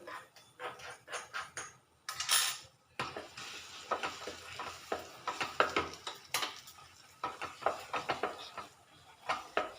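Mango thokku being stirred in a pan, with repeated scraping and clinking of a spoon against the metal and a faint sizzle underneath, coming in short uneven strokes close by without any talk.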